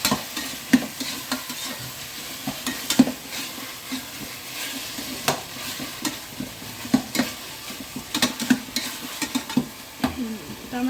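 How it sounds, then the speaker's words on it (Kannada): Tomatoes frying for mutton biryani, with steady sizzling and repeated scraping stirs of a spoon against the pan, close and continuous, with no talk. "ಇವಾಗ ಇದನ್ನು ಚೆನ್ನಾಗಿ ಟೊಮೆಟೊ ಸ್ವಲ್ಪ ಸಾಫ್ಟ್ ಆಗೋವರೆಗೂ ಬೇಯಬೇಕು, ಫ್ರೈ ಮಾಡ್ಕೋಬೇಕು."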